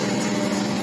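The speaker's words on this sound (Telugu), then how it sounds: "2 HP మోటార్ సౌండ్" Steady close drone of a running 2 HP single-phase electric motor, continuous and unbroken for a brief moment.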